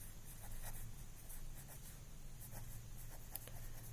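Pen or pencil scratches across paper while working a maths problem, faint soft strokes repeating irregularly over a low steady hum, close and quiet.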